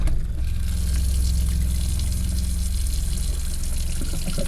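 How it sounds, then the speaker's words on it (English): A water pump runs steadily as water flows through the freshly connected lines, a continuous close rushing hum with a low motor drone holding level throughout, no voices present. "Water's on, pump's on, ready to go."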